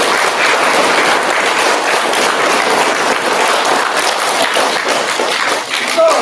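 An audience of families at a 4th grade school event gives the parents a big round of applause. Steady, dense clapping fills the room at full strength from start to finish.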